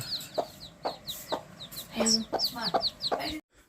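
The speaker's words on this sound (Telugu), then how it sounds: "ఈ నాలుగు పిల్లలు బుడ్డు బుడ్డు పిల్లలు" Hens cluck close by while tiny chicks cheep in high, rapid peeps, a busy mix of soft clucks and sharp chirps that stops suddenly at the end.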